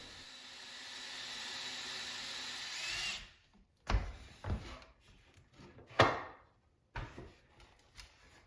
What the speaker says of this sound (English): I need to drill a new hole to level it